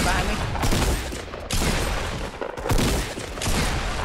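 Rapid gunfire from the Fortnite battle royale video game, dense bursts of overlapping shots in steady clusters, loud and continuous across the whole moment.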